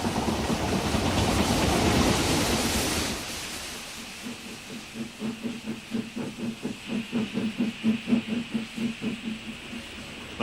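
Steam hiss gives way to a train running over the Somerset and Dorset line through the Mendip Hills, its regular chuffing exhaust beats steady and fairly close, with faint rail noise and no talk.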